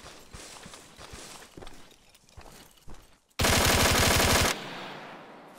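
Arma 3 gunfire: scattered sharp distant shots, then a sudden loud, dense machine-gun burst lasting about a second that cuts off into a quieter tail.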